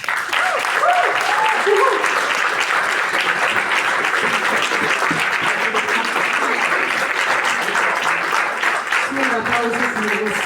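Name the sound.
audience applause at a school playback show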